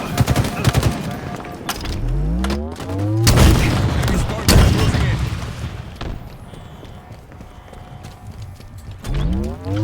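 Rapid bursts of automatic gunfire in a Halo Infinite ranked multiplayer match, loud and close, clustering into several volleys across the stretch with game effects and a voice speaking over parts of it.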